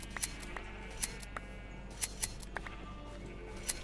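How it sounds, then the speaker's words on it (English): Crisp snipping of shears cutting sheep's wool in Minecraft, about eight sharp, quiet clicks spaced irregularly over a faint steady background hum. "I'm actually quite enjoying my time shearing all the sheep"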